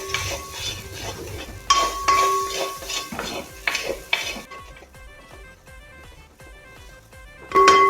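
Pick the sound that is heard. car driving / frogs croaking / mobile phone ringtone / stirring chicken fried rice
stirring chicken fried rice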